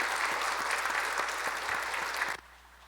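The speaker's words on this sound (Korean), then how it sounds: "박수하겠습니다." A congregation applauding during a Sunday church service, a dense burst of clapping with a few distinct claps marking it, ending abruptly into near silence.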